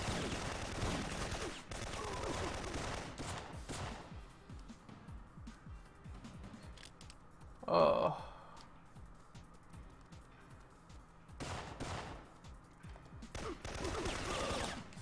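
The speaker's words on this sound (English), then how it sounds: "she just keeps shooting him" Gunfire from the Syphon Filter video game, with bursts of rapid shots clustered early and late around a louder single blast in the middle, moderately near and not very loud.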